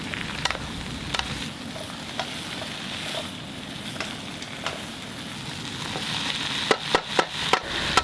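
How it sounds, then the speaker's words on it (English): Greens and crispy pork belly being stirred in a hot pan, with a continuous sizzling fry and scattered scrapes and taps of the utensil, ending in a quick series of sharper clanks, no talking. "Give it a good stir until everything is nice and incorporated"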